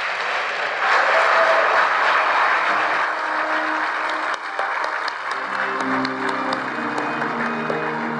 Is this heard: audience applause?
yes